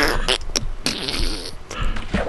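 A loud fart erupts close to the microphone in several bursts, buzzy and spluttering, during a casual recording session.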